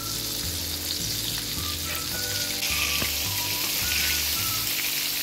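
Chicken wings fry in oil over a low flame, a steady close sizzle with soft bubbling and occasional light clicks from the pan, no voices.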